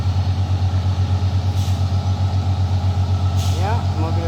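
Colt Diesel HDL Euro 4 truck straining up a steep slope, a steady low diesel throb pulsing without a break, with a couple of brief air hisses and people talking over it.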